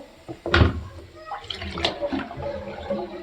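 Dirty rinse water from hand-washed clothes is tipped out with a sudden splashing gush, followed by smaller sloshing and dribbling pours.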